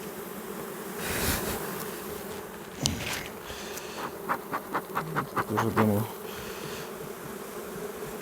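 Honey bees buzz around hive frames in spring, a close, continuous drone with a person speaking briefly and a series of sharp clicks and scraping handling noises near the end.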